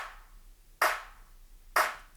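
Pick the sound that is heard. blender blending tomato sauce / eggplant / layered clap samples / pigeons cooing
layered clap samples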